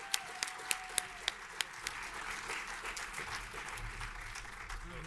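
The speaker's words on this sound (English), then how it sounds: "Big round of applause, please." Audience applause at a talk introducing Vitalik Buterin on Ethereum, a steady wash of clapping filling the room for several seconds, with a few sharper individual claps standing out near the start.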